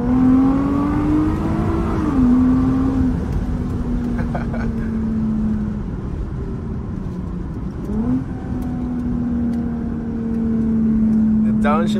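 A Lexus IS350 with a loud exhaust pulls hard at night, its engine droning steadily and rising in pitch through gears, with a rev-matched downshift blip, under the driver's talk.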